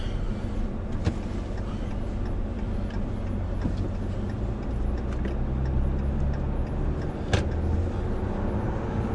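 A 2016 Ram EcoDiesel pickup truck with its diesel engine running, giving a steady low rumble with occasional light ticks and clicks, heard from close by inside the vehicle.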